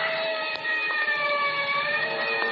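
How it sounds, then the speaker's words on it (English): Distant wailing siren used as a sound effect in a 1940s radio suspense drama, a steady high warbling tone holding across the whole span, moderately faint with no voices over it. "somewhere in the distance I heard a siren"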